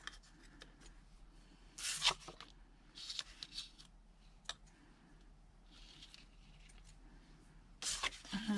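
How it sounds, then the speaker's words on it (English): Scissors snip sewing threads in a few short, crisp cuts spaced apart, quiet and close, with light handling rustles between them. "Snip these threads."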